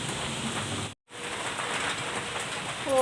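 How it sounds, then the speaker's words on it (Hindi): Rain falling outdoors under dark clouds, a steady broadband hiss of drops that continues throughout with one brief dropout and no speech. "और बारिश चालू हो गई है।"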